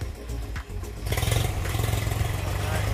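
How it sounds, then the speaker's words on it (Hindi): A tractor engine runs while ploughing a farm field in rural India, a loud, close, steady chugging drone that kicks up sharply after a second and continues, with voices talking underneath. "वो ट्रैक्टर चल रहा है दोस्तों हम भी खेत को जोतवाएंगे"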